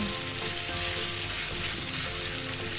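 Chopped tomatoes sizzle in a pan, a dense, steady frying hiss close by that runs unbroken with no talking.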